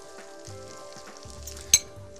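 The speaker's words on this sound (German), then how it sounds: "Bananenscheiben im Anken anbraten und das Brot dazugeben." Banana slices fry in butter in a pan, a soft steady sizzle with a few gentle stirring scrapes and one sharp clink of a utensil near the end.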